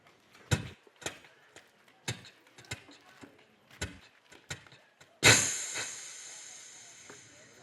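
A voice mimics a train arriving: a run of sharp rhythmic chuffs and clacks, then a sudden loud hissing blast that slowly fades, like steam released as the train pulls in.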